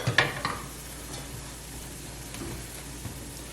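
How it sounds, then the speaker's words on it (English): Butter melting in a non-stick omelette pan gives off a faint, soft, steady sizzle, opening with a few light clinks and scrapes before settling into a quiet hiss. "We're going to add our other tablespoon of butter here. Kind of get this melting a little bit"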